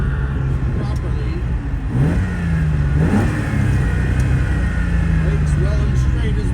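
A 1971 Ferrari 246 Dino GT engine pulls and revs while driving, a rising and falling mid-pitched note through gear changes, close and loud under someone talking.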